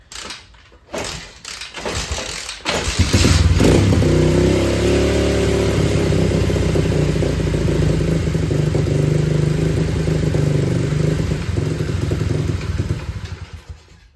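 A pit bike's small engine sputters to life after a few false starts, then holds a loud, steady, slightly uneven idle on choke for about ten seconds before cutting out.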